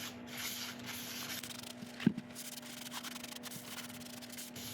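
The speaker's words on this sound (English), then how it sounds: "I'll just wipe this down with isopropyl" Chestnut burl wood wiped with isopropyl alcohol gives a steady, soft rubbing swish of cloth on wood, close and quiet, with a faint background hum and one brief knock.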